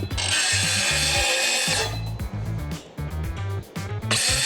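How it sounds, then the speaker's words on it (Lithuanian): A circular saw cuts a wooden plank for a home interior project, its loud high whine running steadily and then breaking into short rough bursts as the blade bites, with no talk. "užsidedam pjūklą, įspaudžiam"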